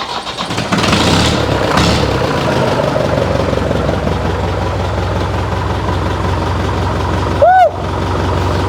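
A smoking forklift engine catches and settles into a loud, steady running rumble close by, broken near the end by a brief high squeal before the drone resumes.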